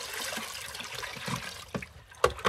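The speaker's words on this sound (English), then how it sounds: "So I'm going to put some cold water in." Cold water is poured into a bucket used for rinsing sheep fleeces, trickling and splashing at close range with a few louder sloshes near the end, heard alone and with no talk.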